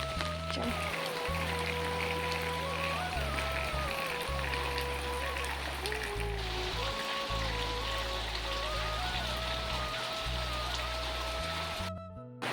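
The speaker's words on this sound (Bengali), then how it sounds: "এখন বৃষ্টি পড়ছে মোবাইলে পুরো জল পড়ছে" Steady rain falling outdoors, a dense constant hiss that runs throughout beneath loud tonal background music.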